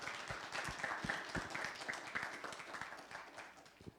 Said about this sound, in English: Can we all give a round of applause and appreciation for Pastor Anna?